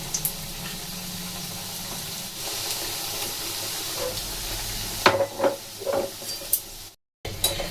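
Labanga latika sweets, pastry parcels closed with a clove, frying in oil in a pan, giving a steady close sizzle with brief bubbling bursts and clinks as more pieces are dropped in, then a short gap.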